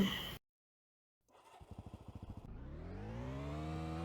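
A motorcycle engine in the Roblox game Vehicle Legends starts after a moment of silence, chugs in quick even pulses, then revs up into a rising, sustained drone.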